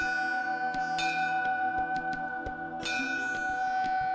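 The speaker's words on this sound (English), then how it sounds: "As soon as they are inside, Hindus ring a bell to announce their presence." A bell in a Hindu temple rings with a bright, sustained metallic tone, struck again near the three-second mark, among scattered clicks and knocks.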